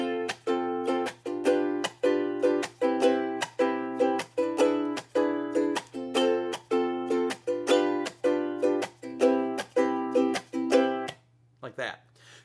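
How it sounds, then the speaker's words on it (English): Ukulele played with the island strum pattern and a chuck on beats 2 and 4, with bright chords ringing in a steady repeating rhythm close up for about eleven seconds, then a brief faint voice. "So it's going to be the island strum with a chuck on tune 4."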